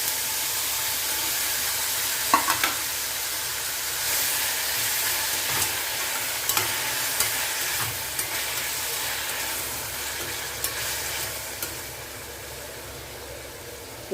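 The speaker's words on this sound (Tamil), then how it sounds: "இப்போது தக்காளி நல்லா வதங்கி வரட்டும்" Continuous hissing sizzle of sliced tomatoes sautéing in a pan, steady throughout with occasional soft clicks and taps, no speech.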